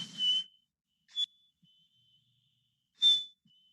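Three short, high whistled notes, each sliding slightly, separated by pauses; a human whistle imitating a black-capped chickadee's call, clear and close with no talking.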